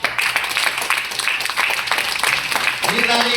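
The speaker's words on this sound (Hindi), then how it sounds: "और एक जोरदार ताली" A training audience breaks into loud clapping that carries on steadily for a few seconds, with a voice speaking over the applause.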